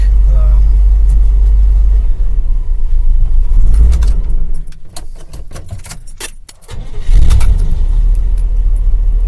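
A 1984 van truck engine idles with a steady low rumble close by, then it dips and cuts briefly before catching again, while keys jangle and someone speaks over it.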